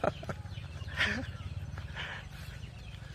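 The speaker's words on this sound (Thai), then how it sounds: "อ่ะนี่บรรยากาศเล้าเป็ดนี่ครับ" Ducks cluck and call in a duck pen nearby, a few scattered squawks over a steady low background hum.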